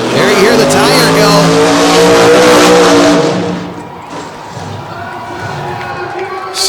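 Race car tires squealing and skidding at a freestyle motorsport show, with engine revving; a loud sustained screech for about three seconds, then fading into crowd and ambient noise, with talk over it.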